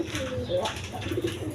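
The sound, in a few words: pigeons cooing, high flying Giribaz pigeons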